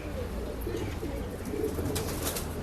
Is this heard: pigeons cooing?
yes